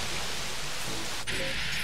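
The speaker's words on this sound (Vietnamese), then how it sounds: "Uầy, mưa rồi." In-game rainfall from Jurassic World Evolution makes an unbroken wash of hiss, shifting slightly brighter partway through, with no speech on top.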